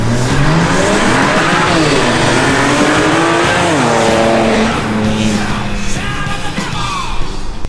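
A BMW engine, running rough, roars up close while tires squeal in long, rising and falling wails, loud and continuous with no speech.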